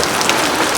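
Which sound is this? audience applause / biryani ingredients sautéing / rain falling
rain falling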